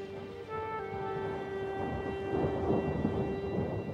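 A heavy desert rainstorm in the Arabian mountains, a dense steady hiss of rain with a deep rumble of thunder swelling through it, continuous and fairly loud, with no voices.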